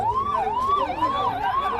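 Ambulance siren wailing at the scene of an accident on an expressway, a loud, close, rising-and-falling tone repeating steadily with no talk over it.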